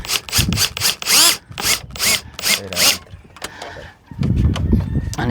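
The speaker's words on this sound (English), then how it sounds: "I'm gonna drill and that take us right inside." A loud power drill grinds in rapid bursts, biting through a wall while installing a Ring doorbell camera, with short pauses and a rough rasping texture.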